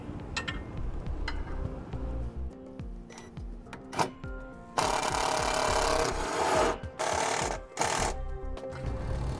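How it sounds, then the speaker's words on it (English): A self-tapping screw is driven into the mount of a TorkLift GlowStep Revolution scissor step on a 2015 Jayco RV. Rattling, scraping contact comes first, then a loud, gritty power-driver whir in bursts that stop and restart. "we will take our self-tapping screw and run it on into place"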